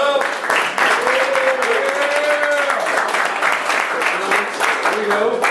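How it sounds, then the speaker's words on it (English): Steady, enthusiastic applause from a college men's basketball team welcoming a coach, sustained clapping throughout with a voice talking over it. "Clap it up for him."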